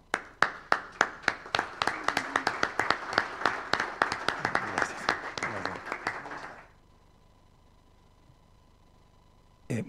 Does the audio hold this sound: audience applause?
yes